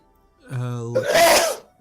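A single sharp sneeze bursts out right after a short voiced intake, loud and close, with nothing else going on.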